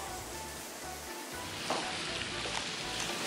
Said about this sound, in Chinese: 直接高一点，恰爆下香菇，香菇爆香下胡萝卜，稍微翻炒一下